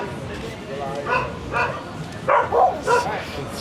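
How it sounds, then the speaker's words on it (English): Very large dog barking outdoors in a street, several loud woofs and yips in a broken rhythm against a steady background of traffic and crowd noise. "It's really scary actually to bring that kind of dog, which is like really big."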